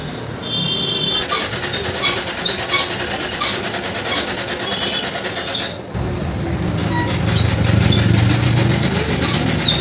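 An electric sewing machine stitching a nightie, a loud, steady mechanical whirr with rapid rhythmic chatter that runs almost continuously, broken by one brief pause midway.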